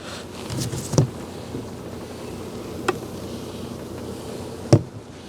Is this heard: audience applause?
no